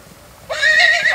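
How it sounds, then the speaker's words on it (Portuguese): A five-month-old grey Lusitano filly, a freshly weaned purebred, lets out a single loud, close whinny that begins after a short quiet pause and carries on to the end. "Linda égua tordilha, filha de famoso do Monte Belo"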